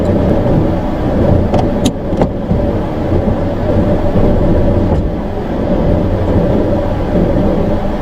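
A car is maneuvered slowly out of a tight parking spot, producing a loud, steady engine and cabin rumble that continues throughout, with a few faint clicks near the start.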